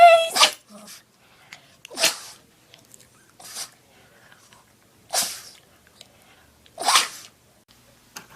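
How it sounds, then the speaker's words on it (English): A dog sneezes five times in a row, each a sharp, close burst followed by short pauses and quiet snuffling, with a faint whimper between some of them. "He sneezed on me."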